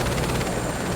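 A helicopter flying over Chitwan National Park in Microsoft Flight Simulator 2024, a loud continuous rotor thrum with a fast pulsing chop, filling the whole moment without any voices.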